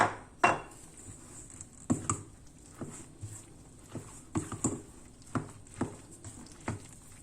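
Spoon or whisk clinking in a bowl while flour, baking powder, caraway, white pepper and salt are mixed, with repeated sharp taps and scrapes in an irregular rhythm, close and fairly quiet, with no talking.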